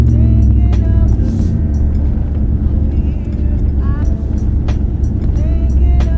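A 2004–2013 Ford F-150 pickup lowered on Belltech coilovers drives slow laps of a closed course, its engine droning low and steady from inside the cab while someone talks over it.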